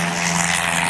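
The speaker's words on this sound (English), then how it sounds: "There's an airplane taking off from our airport." An airplane takes off from a nearby airport, a steady loud engine and propeller drone with a low hum throughout the brief moment.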